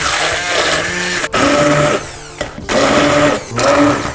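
A blender purees boiled, drained frozen green peas with garlic and salt, a loud, close whirring motor that runs in bursts, briefly cutting out and starting again three times.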